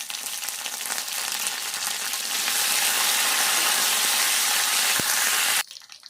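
Coriander leaves frying in hot tempering oil with garlic, dried red chilli and curry leaves for Telangana dal, a loud continuous sizzle and spatter that holds steady before cutting off abruptly near the end.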